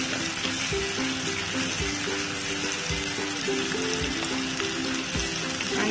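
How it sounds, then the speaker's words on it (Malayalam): Cardamom pods and fennel seeds fry in hot oil for a Kerala chicken perattu, a steady close sizzle and crackle with a few soft stirring knocks underneath. "1/2 ടീസ്പൂണ് പെരിഞ്ചീരകം, ഇതും കൂടി ചേർത്ത് എണ്ണയിലേക്കൊന്ന് നന്നായിട്ട് മൂപ്പിച്ചെടുക്കാം"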